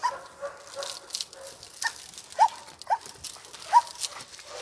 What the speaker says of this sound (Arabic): بص يا جماعة الكلب يلعب ازاي؟